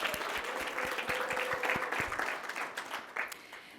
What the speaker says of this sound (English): Please give yourselves a hand of applause.